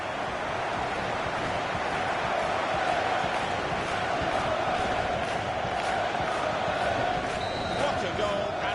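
A stadium crowd in FIFA 15 roars steadily after a late, likely winning goal, a broad constant wash of cheering with faint chants and no clear words.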